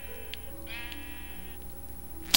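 Minecraft sheep bleats on the Xbox, giving a couple of wavering bleats over a steady game background hum, clear and fairly close, with no talking.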